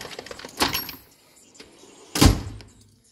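A soft-close drawer of a Mac Tools MB1084DT tool chest glides closed with a soft rumble, followed by a firmer, resonant thud as it settles shut; quiet room tone between.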